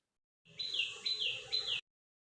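Birds singing in a rooftop garden: three repeated rising chirping phrases in a steady rhythm, clear and fairly close, heard alone without talk.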